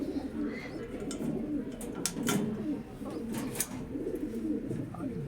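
Racing pigeons cooing in their loft, a continuous low rolling coo from several birds close by, with faint chirps and someone talking quietly over it.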